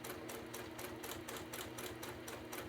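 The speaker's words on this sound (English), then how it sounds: "So we're going to sew all the way around." A sewing machine runs continuously around a satin eye mask, a close steady mechanical whir with an even, rapid rhythmic thumping of the needle throughout.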